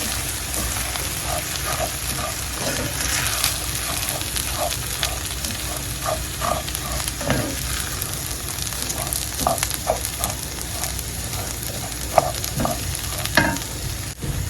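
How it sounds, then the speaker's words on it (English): Rice being stirred in a pot with steady scraping and continuous sizzling, small repeated clicks of the spoon at an even rhythm, close and moderately loud, no voices. "Stir everything in."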